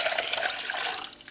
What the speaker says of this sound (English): the dandelion and citrus liquid, we'll put that into this pot